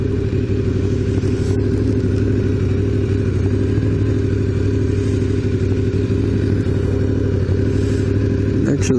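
A motorcycle engine idles steadily at too high a speed, a continuous loud low hum with some clatter running unchanged throughout.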